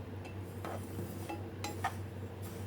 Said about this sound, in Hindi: चम्मच से हिलाते रहें